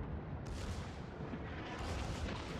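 Battleship main guns firing a salvo in the naval game World of Warships, a heavy booming blast with a rumbling tail, loud and alone with no talk.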